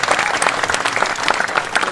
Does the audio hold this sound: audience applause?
yes